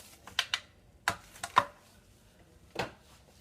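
Almonds drop into a blender cup as a handful of sharp, hard little clicks in an uneven scatter, close and fairly quiet, with brief pauses between them.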